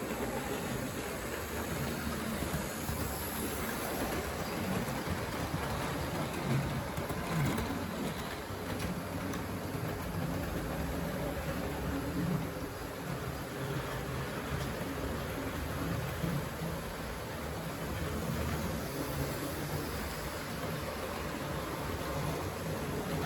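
A Hornby Class 43 Intercity 125 model train runs continuously, giving off a steady whirring, rumbling drone at constant level with no pauses.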